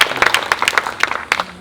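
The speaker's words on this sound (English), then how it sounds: "So another round of applause for Sandy." Brief applause for Sandy at a museum's grand reopening and ribbon cutting: a group of people clap in quick, overlapping claps, close and moderately loud, with no speech over it.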